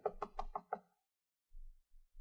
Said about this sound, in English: Don't want to knock too loud.